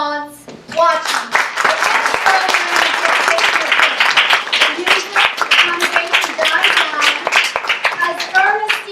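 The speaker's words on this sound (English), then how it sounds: "The congregation stands and applauds, watching" A congregation stands and applauds in a church, a dense, steady round of clapping from many hands that holds throughout, with voices calling out and chattering over it.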